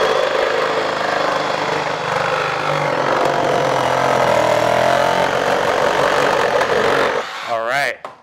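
A GasGas 125 two-stroke dirt bike engine runs steadily and loudly up close, droning throughout before the revs rise and fall in a short rising whine at the end.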